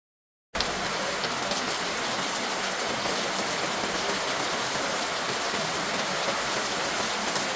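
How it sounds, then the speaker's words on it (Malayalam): Heavy rain pours steadily, a dense continuous hiss of drops after a brief silent start, loud and unbroken throughout. "നല്ല മഴയാട്ടോ, നല്ല പെരുമഴയാണ് പെയ്യണത്."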